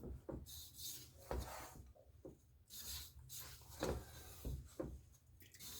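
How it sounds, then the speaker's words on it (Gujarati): Milk powder and water being stirred together in a pan for kaju katri, a soft scraping, rubbing rhythm of repeated strokes, close and moderately quiet with no talk. "મિક્સ કરીશું બધું."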